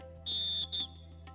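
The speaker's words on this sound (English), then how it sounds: "Referees are ready with the whistle." Referee's whistle at an under-14 girls' kho-kho quarter-final, two shrill blasts, a longer one then a short one, faint and distant over quiet background noise.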